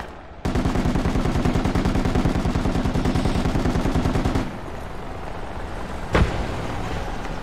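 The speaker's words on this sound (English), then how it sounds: "I'll kill them on the HMG." A heavy machine gun in the military shooter game Project Reality fires one long, rapid, continuous burst of about four seconds, loud and close. A brief thump comes after it stops.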